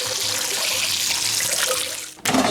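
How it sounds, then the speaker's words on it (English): Tap water runs steadily over blueberries being washed in a kitchen sink, a close, continuous splashing stream that cuts off abruptly near the end with a brief clatter. "I'm gonna wash the berries real quick."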